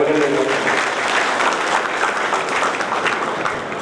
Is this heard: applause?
yes